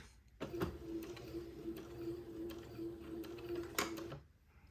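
A sewing machine runs a straight stitch, attaching lace to a bias band on a baby gown. The motor hums steadily for about four seconds, with mechanical clicks at the start and near the end, heard alone at low level.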